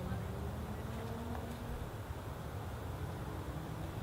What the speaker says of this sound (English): These bees are coming to say hi to me right now.